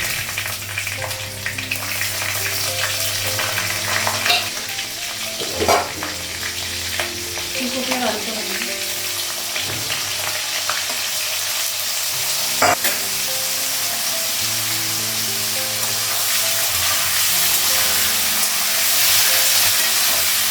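Green and dried chilies fry in oil in a pan with a steady loud sizzle, broken by occasional stirring clatter over about twenty seconds, with no voices.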